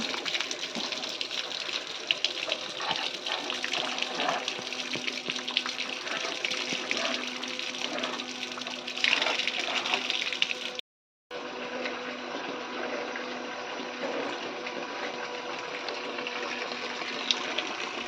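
Dirty rainwater flows off a roof slab in a continuous rushing gush, with a brief break partway through before it carries on at the same level.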